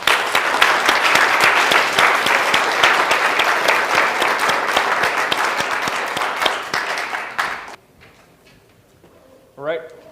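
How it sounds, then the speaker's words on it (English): Loud, dense applause from a conference audience after a talk on serving map tiles, steady for about seven seconds before stopping abruptly; a brief voice follows near the end. "So I really want to get a round of applause for them tonight"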